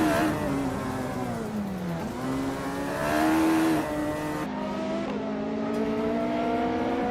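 Race cars in a racing video game, including a Lada Revolution RS2, drone and rev continuously, engine pitch rising and dipping through gear changes as the pack drives on, loud and steady with no voices.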